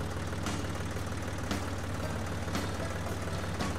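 Small tractor engine idling in Professional Farmer 2014, a low, steady, rhythmic diesel chug running loud and close, with a few faint clacks at intervals.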